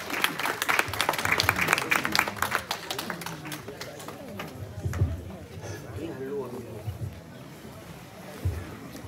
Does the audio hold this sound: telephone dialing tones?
no